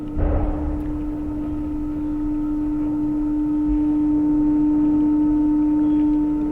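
A PVC pipe being raised out of water gives off a steady, low resonant hum like a soft foghorn, holding one sustained pitch with a slight swell in loudness over several seconds.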